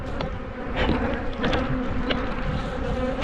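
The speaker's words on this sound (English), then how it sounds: "so they're stinging the GoPro" Angry honeybees swarming a GoPro camera at a hive, a dense, loud, continuous buzz right at the lens with individual bees whizzing past.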